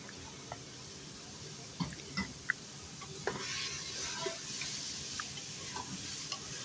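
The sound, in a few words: frying tomatoes and green chilies with mutton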